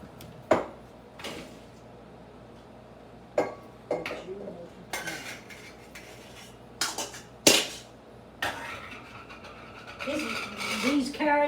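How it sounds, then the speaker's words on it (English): Cooked carrots drained from a metal pot in a home kitchen, with sharp clanks and knocks of cookware spaced across the clip and a short rush of pouring water toward the end. "drain these carrots"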